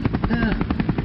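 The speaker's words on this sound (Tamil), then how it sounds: "ஹெலிகாப்டர் சதெல்லாம் கேட்குது" Rapid rhythmic thudding of helicopter rotor blades fills the clip, loud and steady, with a faint whine over it.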